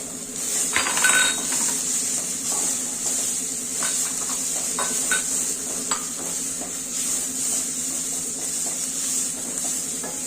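Coconut pieces frying in a pan for chutney, giving a steady close sizzle with scattered scrapes and clinks of a stirring spoon against the metal, no voices.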